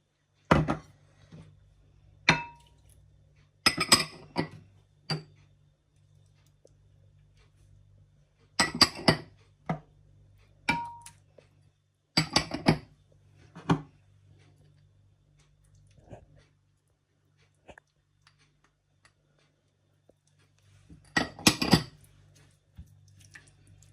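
Spices, ground garam masala, coriander powder and red food colouring are mixed in a bowl, with sharp clinks of a spoon against the dish in scattered bursts and quiet gaps between, close by under a faint low hum.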